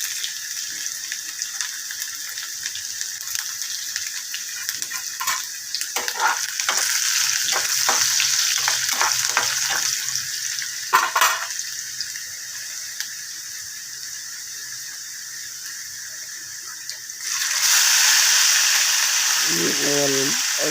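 Several garlic cloves fry with cumin seeds in hot oil, giving a steady sizzle with scraping stirs and short clatters, and the sizzle swells louder near the end as more goes into the pan.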